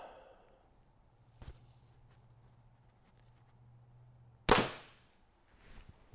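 A single arrow released from a Hoyt RX8 Ultra compound bow gives one sharp, close snap with a quick ringing decay in an otherwise quiet setting, preceded by a faint click.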